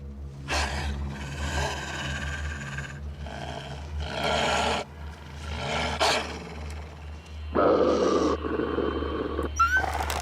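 A wolf in the survival video game The Long Dark growls and snarls in several loud, rough bursts separated by brief pauses, close and aggressive.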